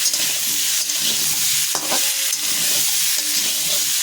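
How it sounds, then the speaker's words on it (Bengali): New potatoes, already boiled, fry in oil with turmeric and salt: a continuous bright sizzle close up, with occasional stirring scrapes against the pan. "অল্প নুন দিয়ে এটাকে আমি ভাজবো একটু ভালো করে"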